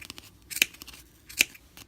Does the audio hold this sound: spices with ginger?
no